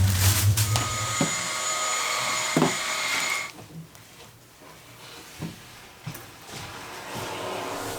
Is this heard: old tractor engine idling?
no